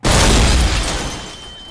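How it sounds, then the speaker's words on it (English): A single loud, violent explosion bursts at once and rolls off into a long, fading rumble with a faint high tone lingering. "And a violent explosion."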